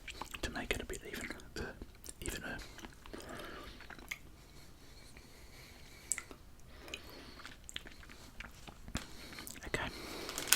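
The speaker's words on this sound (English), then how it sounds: "That second bite is much more chewy than the first bite for some reason" Someone quietly bites into and chews Pineapple Lumps, a chocolate-coated pineapple chewy candy from New Zealand, close to the mic. Soft wet chewing and squishing sounds mix with a few brief whispers and occasional clicks.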